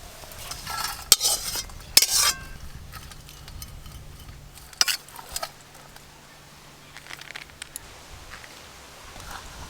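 Fried potatoes and bitter gourd are tipped out of a pan with a few loud metallic scrapes and clatters, followed by quieter scraping and a faint sizzle in between.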